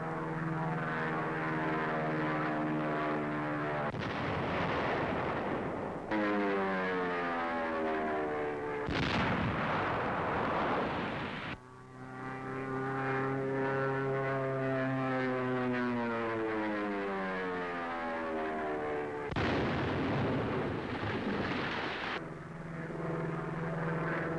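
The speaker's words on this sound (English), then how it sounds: "Navy planes come over enemy positions in the hills. Gasoline jelly bombs fall." Gasoline jelly bombs dropped by Navy planes bursting on enemy-held hills on Okinawa in 1945: a droning propeller aircraft engine throughout, broken by about four loud, roaring blasts, some lasting several seconds.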